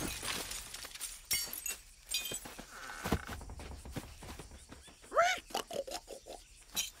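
Glass smashing in a children's cartoon: sharp shattering crashes with tinkling debris scattered across the clip, mixed with busy cartoon sound effects and a brief rising squeal near the end.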